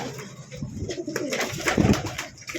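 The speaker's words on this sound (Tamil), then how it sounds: "அப்புறம் பார்த்தீங்கன்னா இந்த கர்ணப்புறா இருக்குங்க." Pet karna pigeons, a fancy breed kept as a mated male and female pair, cooing in soft low repeated rolls close by, with some background hiss and no talk.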